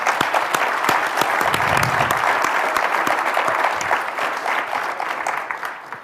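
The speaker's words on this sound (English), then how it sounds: "Everybody in this room who's a CIBC shareholder should give one hand of applause to Victor" A room full of people at a Canadian Club business luncheon breaks into dense, sustained applause that fades slightly toward the end.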